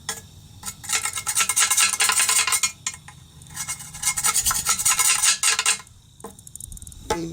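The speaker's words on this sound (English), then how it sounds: "I'm going to scrape some of this crud off." A scraper rasps crud and grease off the fuel tank of a push mower in repeated close, gritty strokes, loud bursts of scratching separated by brief pauses, with no talking.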